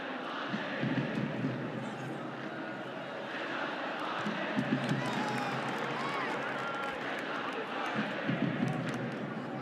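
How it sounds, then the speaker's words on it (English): A football stadium crowd at an AFC Champions League match between Al Hilal and Al Duhail keeps up a steady, dense roar throughout, with surges of noise and a commentator talking over it. "Crowd are starting to find their voice again."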